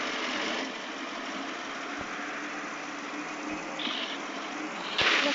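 A Moskvich car with a 1.5-litre engine runs at a steady idle, giving a continuous close drone with a low rumble and a few faint knocks and clicks over it, and no talking.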